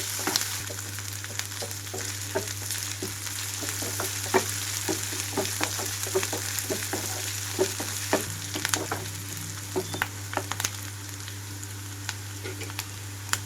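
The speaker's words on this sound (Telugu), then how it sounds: "నేనైతే ఇందులో పచ్చిమిరపకాయల ముక్కలు సన్న చీలికలుగా చేసి వేసుకున్నాను." Slit green chillies frying in hot oil in a pan for an Andhra-style egg gravy curry, giving a steady sizzle with scattered crackles and pops throughout, close and continuous, with no talking.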